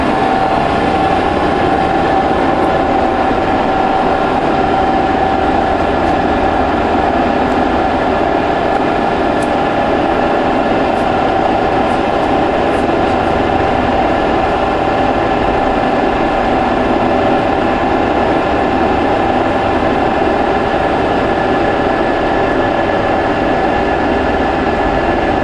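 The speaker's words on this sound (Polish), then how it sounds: "Teraz za chwilę zobaczymy pracę śruby pociągowej." A TUR-630M lathe, 1500 mm between centres, runs steadily with its lead screw engaged, giving a loud, continuous mechanical drone with a constant whine and faint periodic ticks, no speech.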